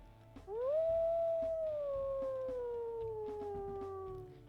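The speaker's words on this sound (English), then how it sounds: "We'll also listen to his howls here" A wolf in the WolfQuest video game lets out a single long howl that rises quickly, then holds and slowly sinks in pitch, loud and alone.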